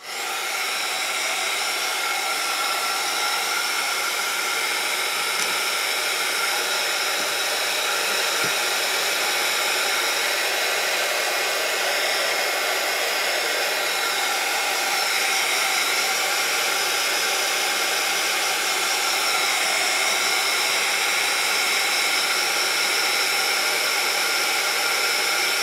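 A hair dryer blows steadily on painted craft work, a constant close hiss and whoosh running unbroken for the whole stretch.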